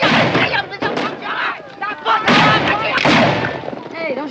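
Gunfire crackles through a chaotic battle around wagons in a 1950 western film, with several loud bursts and shots layered over music and shouting voices across the scene.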